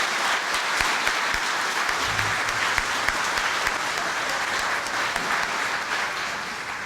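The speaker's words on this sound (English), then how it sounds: "let's give them one more round of applause" Sustained audience applause at an awards event honoring employers and achievers, a dense, steady clapping from a large crowd that holds evenly throughout with no speech over it.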